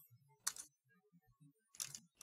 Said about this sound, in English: That's typing.